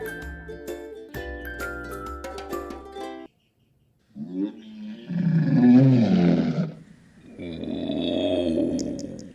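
A lion gives a deep, rough roar in drawn-out surges after a short melodic chime passage, loud and close with a pause between the heavy bellowing phrases.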